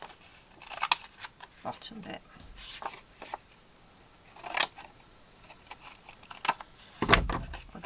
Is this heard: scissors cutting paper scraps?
yes